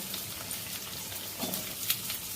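Papaya and potato pieces sizzle in a hot frying pan of oil seasoned with turmeric, a steady close crackling hiss with a few sharper pops.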